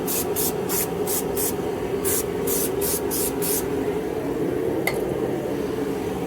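A cleaning spray is squirted onto an engine mating surface in a quick series of sharp hisses, then wiped, over a steady background hum. A single faint clink follows. No one speaks.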